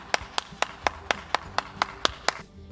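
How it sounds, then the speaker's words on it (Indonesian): Children clap their hands in about ten spaced, fairly even claps, each a sharp slap standing alone against a quiet room. "Tepuk tangan dulu dong buat anak-anak Super Kids yang luar biasa."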